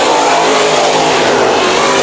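Race cars roar around the oval at Bakersfield Speedway during a 32-lap memorial race, a loud, dense wall of engine noise with no pauses and no voices.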